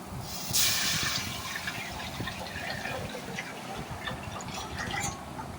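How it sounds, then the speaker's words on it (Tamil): Tamarind and chili powder water is poured into a clay pot for a fish curry, a sudden splashing gush followed by continuous bubbling liquid sloshing, close and moderately loud. "புளி மிளகாத்தூள் அந்த தண்ணியை எடுத்து அந்த சட்டியில் ஊற்றிடணும்"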